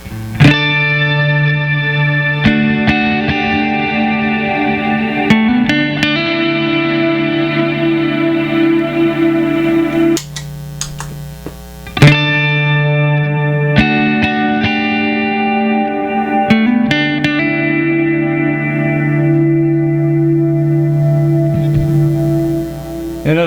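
Red Panda Context reverb pedal on an electric guitar at a high delay setting with the coloring knobs up, sustained chords washing into long, shimmering reverb tails, with a brief dropout near the middle before the playing resumes.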